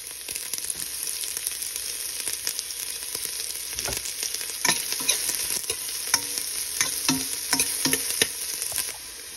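Ginger sautéing in a pan for ginataang tilapia, with a continuous sizzle and a run of clicking, scraping spatula strokes that grow busier toward the end, close and with no talking.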